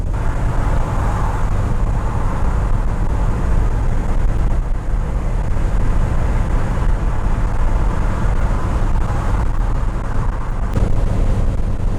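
A classic MGB roars steadily along a motorway, its engine drone and road rumble loud and constant from inside the car with no voices.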